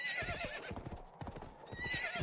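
Horse in the video game Black Souls 2, a sharp whinny at the start and another near the end, with a rapid run of close, clattering hoofbeats between them.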